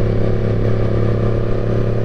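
A Honda CBR650R motorcycle engine hums steadily on a twisty European road, a constant mid-pitched drone with rumbling lows and wind noise throughout, no distinct revs standing out.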